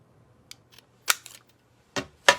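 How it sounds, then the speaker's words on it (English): A square paper punch snaps through a paper strip to cut a small divot, giving a few sharp, close clicks and snaps spread over a couple of seconds, with soft handling noises between them. "Just gonna take a square punch to cut a little divot out of my"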